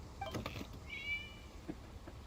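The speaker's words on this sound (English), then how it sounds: "It was just a cat." A single cat meows in the video game Genshin Impact, a short rising-and-falling call at moderate volume over faint game ambience, with no talking.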